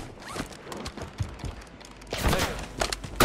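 Gunfire in Call of Duty Warzone on Rebirth Island, sniper fire included: sharp, scattered cracks over a busy game soundscape, growing louder and denser near the end.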